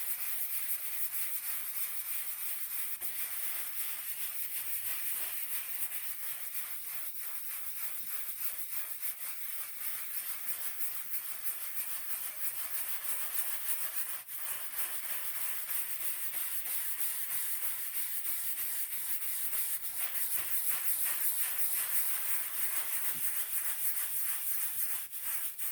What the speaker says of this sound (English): Come in with the brush. Get some circular motions going here.